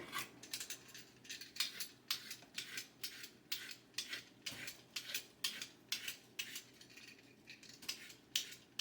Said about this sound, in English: And then I'm going to get these carrots peeled.